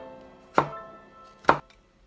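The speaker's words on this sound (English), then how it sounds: "Cut the garlic." Garlic chopped with a knife on a cutting board: two crisp, solid chops about a second apart, close and clear against a quiet room.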